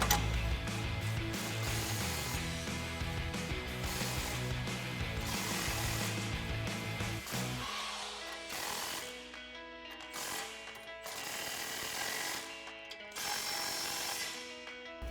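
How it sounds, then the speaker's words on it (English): A 22mm deep socket on an impact wrench tightens lift-kit bolts on a 2019-2026 Silverado 1500, giving a loud, steady mechanical hammering that runs the whole time with no talk. "We're gonna grab our impact with our 22mm deep socket. We're gonna tighten these in a crisscross pattern to make it even."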